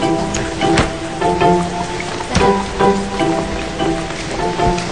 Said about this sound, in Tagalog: Malakas kasi yung ulan eh.